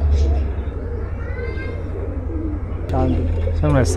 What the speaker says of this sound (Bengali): এক পেয়ার সাহারানপুরি কবুতর